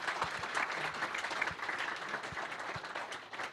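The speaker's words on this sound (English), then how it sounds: "So let's have a big round of applause." Audience applause fills a hall at an entrepreneurship summit, a steady wash of many hands clapping close and moderately loud, sustained without pause.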